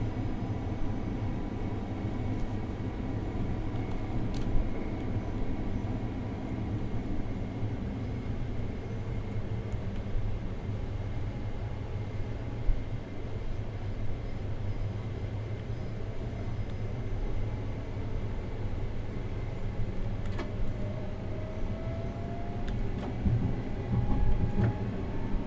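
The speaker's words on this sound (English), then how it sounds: "now just going to allow the train to coast towards Hitchin Station" A Class 387 electric train coasts toward Hitchin Station in a train simulator game, giving a steady, close, continuous low rumble and hum that holds even throughout with no talking.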